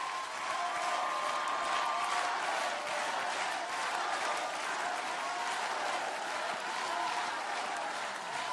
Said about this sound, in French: Zahira et Amel Bent, qu'on peut encore applaudir, s'il vous plaît